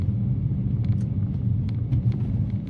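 A Kia Morning's small three-cylinder engine under 1000cc drones steadily under load, a low constant rumble heard from inside the car with no talk.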